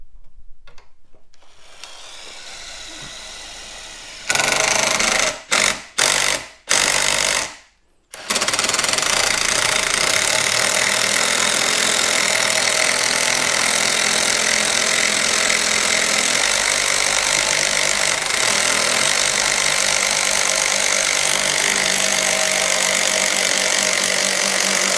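Power drill running a hole saw: a few short starts and stops, then a long continuous loud whirring cut that holds steady at close range, with no talk.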